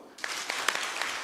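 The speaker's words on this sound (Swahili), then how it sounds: "Makofi kwao." Audience at a formal morning cooperative event claps in thanks, a soft even patter of many hands starting abruptly and continuing steadily, with a few sharper claps standing out.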